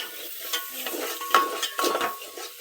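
Mutton masala and red chilli powder frying in hot oil: a steady sizzle with short scraping stirs every half second or so, close and fairly quiet, with no voices.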